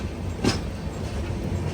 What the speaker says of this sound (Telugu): ఏదో ట్రైన్ చెన్నై సెంట్రల్ లోపలికి వెళ్తుంది, చూద్దాం ఏం ట్రైన్